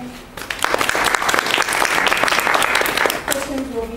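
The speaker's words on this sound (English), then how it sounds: "please give a round of applause to Jonathan." Audience applause at an academic ICT4D workshop greets a speaker being introduced, a steady wash of many hands clapping that swells quickly and holds for several seconds, with some voices mixed in.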